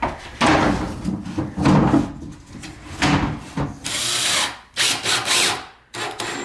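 Wooden backing panel being fitted onto a homemade secret bookcase door, with a series of close, loud wooden knocks, rubs and scraping handling sounds in uneven bursts.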